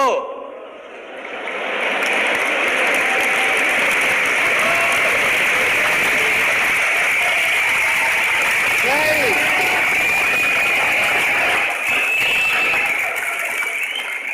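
Sustained applause from a large audience at a Hindi talk about success and money, a dense even wash of clapping lasting throughout, with some faint voices mixed in.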